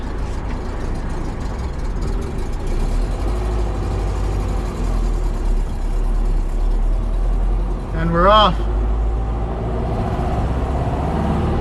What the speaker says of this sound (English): you can hear that Porsche whine